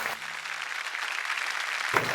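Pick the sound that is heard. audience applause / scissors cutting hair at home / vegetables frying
audience applause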